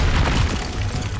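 A Confringo spell blast in Hogwarts Legacy, a single deep booming explosion with a rumbling low-end burst that fades quickly into a noisy tail.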